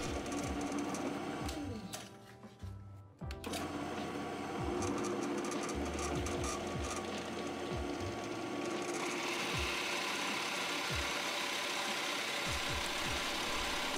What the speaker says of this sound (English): I'm using my drill press again